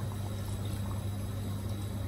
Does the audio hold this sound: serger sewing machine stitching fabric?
no